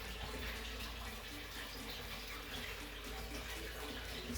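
Water runs steadily from a tap into a container for changing the chicks' drinking water, a continuous hissing splash with no break throughout.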